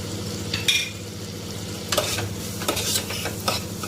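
Chopped tomato sautéing with chili powder and masala in a pan, a soft continuous sizzle with a few scraping stirs of the spoon, close and quiet.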